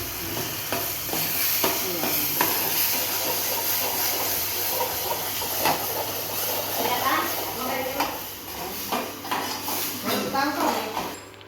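Roasted eggplant mash sizzles and spatters as it is tempered in hot oil while a spoon stirs and scrapes the pan, with a person talking over the cooking.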